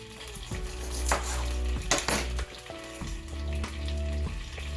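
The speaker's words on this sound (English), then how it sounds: "I'm going to put this back on the heat, and I'm going to add my other portion of the butter for the onion" Butter sizzles in a hot pan on the heat, ready for onions, with a steady crackling fry under occasional clinks and scrapes of a utensil against the pan.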